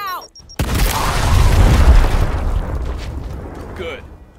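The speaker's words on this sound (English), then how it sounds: "I can throw a grenade, see how many I kill." A grenade explodes in a combat video game, one loud booming blast with a rumbling tail that fades over a few seconds, preceded by a brief voice.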